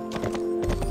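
Horse hooves clip-clop at a gallop in the Barbie Horse Adventures video game, a quick run of close, steady beats over a sustained tonal game music bed, with a brief pause before the strides resume.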